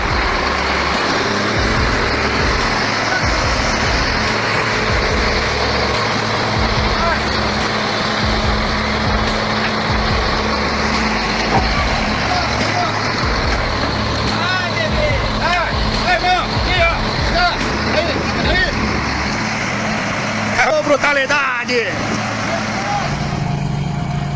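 A huge truck stuck in two feet of mud, its heavy engine roaring loud and continuous throughout, with hints of air brakes and mechanical clanks while talk runs over it.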